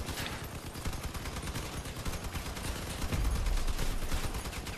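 Sustained gunfire in the vehicle combat game Crossout, a steady stream of rapid machine-gun shots with a heavier rumble joining partway through, fairly distant and without talking.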